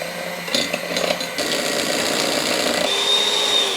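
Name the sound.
electric whisks mixing mascarpone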